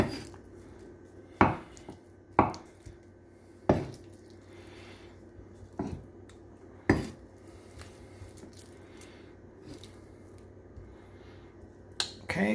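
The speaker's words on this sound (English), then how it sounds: "I'm trying to video this and chop at the same time" A knife chops food for avocado toast with sharp, distinct knocks on a board, spaced irregularly about a second or two apart, close-up over a quiet background, with no talking.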